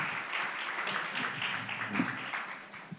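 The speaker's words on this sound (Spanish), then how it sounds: "Y pido un aplauso, por favor, para Pablo Rada, miembro de la redacción de Juego de Manos." An audience applauds a speaker at a history talk session, a continuous, moderately loud wash of many hands clapping that holds steady throughout.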